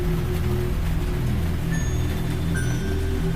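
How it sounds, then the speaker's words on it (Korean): Constant rain hiss with a low, blustery wind rumble underneath, steady throughout with no voices. "그저 바람소리와 빗소리만 울렸다."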